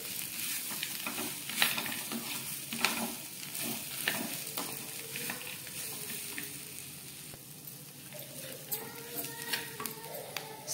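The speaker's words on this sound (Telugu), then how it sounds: "ఫ్రై చేసి పెట్టుకున్న పల్లీలు కూడా వేసి ఒక్క 2 మినిట్స్ మరొకసారి వీటితో కలిపి ఫ్రై చేసుకొని" Roasted gram and peanuts are stirred and fried together in a pan, giving a soft scraping rattle and faint sizzle in repeated strokes, fairly quiet.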